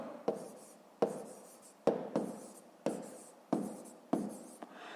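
A pen scratches on paper while working a fifth-grade maths exercise, making about seven crisp, evenly spaced strokes that each fade quickly. The sound is close and quiet, with no voices.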